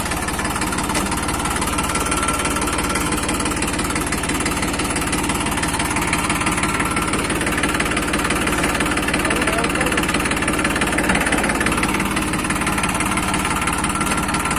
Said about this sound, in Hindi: दोस्तों ट्रैक्टर में चला के देखता हूँ